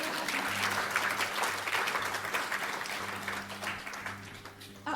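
Audience at a talk on head and neck radiotherapy clapping after the presentation, a soft, fairly distant wash of many hands over a low electrical hum, fading toward the end.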